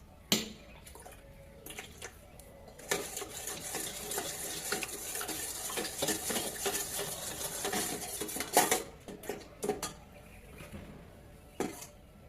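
A spoon scraping and clinking against a metal pot while stirring yogurt starter into milk, irregular rattling strokes with a few louder taps, close up and without talk.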